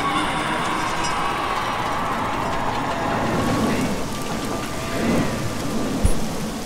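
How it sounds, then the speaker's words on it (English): Thunderstorm rain in the video game RollerCoaster Tycoon 3: steady dense downpour hiss throughout, with a rumble swelling near the end and a sharp crack of thunder close by, no voices. "Oh, I hate the rain."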